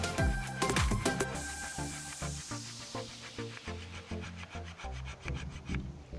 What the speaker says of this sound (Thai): แต่ตอนนี้เป็นฉลุ ให้ได้ความลึกที่ต้องการนะครับ